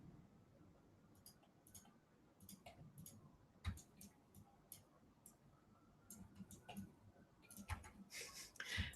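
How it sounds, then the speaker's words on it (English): Sharp clicks from a standard Logitech computer mouse, coming in irregular bursts and short runs of taps, close and fairly quiet over a low room hum. "The mouse clicking is probably driving people insane."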